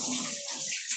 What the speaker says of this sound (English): Who is in the shower?